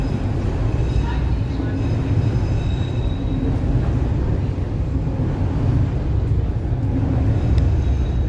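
A DLR train passes at Canary Wharf in London, a loud continuous rumble of wheels and motors close by, steady throughout with faint street bustle.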